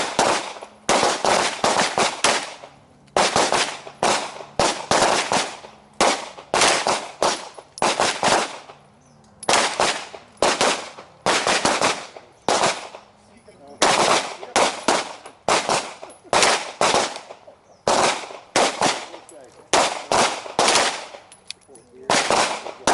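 Pistol shots ring out during a shooting drill at a range, loud sharp cracks fired in quick clusters of several shots separated by short pauses, repeating steadily throughout.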